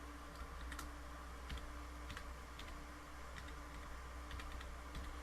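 Rapid clicking keystrokes on a computer keyboard, close and fairly quiet, a steady run of taps with no voices.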